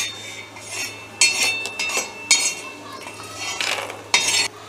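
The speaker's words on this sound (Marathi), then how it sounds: "आपण शेंगदाणे पण थोडं हलकेसे भाजून घेणार आहे, जास्त काळे करून घेणार नाही आहोत आपण" Peanuts being lightly dry-roasted and stirred in a pan, with close, repeated scraping and rattling bursts of the spoon against the metal and a faint steady hum underneath.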